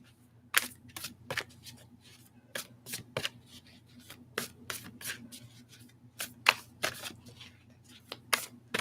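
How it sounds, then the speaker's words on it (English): A large, oversized tarot deck being shuffled by hand, with repeated crisp riffling bursts and card slaps in an irregular rhythm, close and fairly quiet, no talking. "It's almost a talent to shuffle a deck this big because they're monstrosities now."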